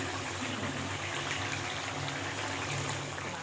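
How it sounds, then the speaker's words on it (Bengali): Bitter gourd and potato curry with fish oil and added water simmering in a pan, a steady close bubbling and hissing wash that runs unbroken the whole time with no talk. "তিতাটা ফুটছে।"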